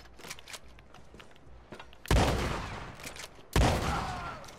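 Two loud gunshots from a Red Dead Redemption 2 shootout crack out about a second and a half apart, each with a long rumbling tail, over quiet ambient game background.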